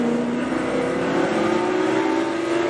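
A C5 Corvette race car accelerates on track, its engine a loud, steady rising drone heard from close by.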